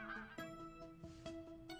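Several cartoon geese honk in quick succession, loud nasal calls overlapping close by, with no talking.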